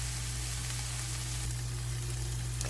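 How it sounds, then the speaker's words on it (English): Sliced garlic, a bay leaf and a sprig of rosemary sizzle in a pan with onions for braised chicken thighs, a steady close hiss over a constant low hum, with no talking. "now we're ready to add sliced garlic and a bay leaf and a sprig of rosemary, and these will cook for 2 minutes."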